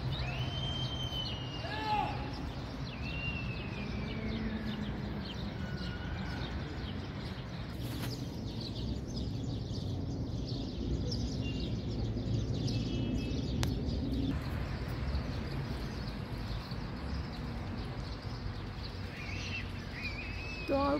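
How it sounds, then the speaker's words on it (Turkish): Birds chirp and call intermittently over a steady background hiss, some notes rising and falling, fairly close and clear. "Doğal kuş sesi arkadaşlar, gerçek."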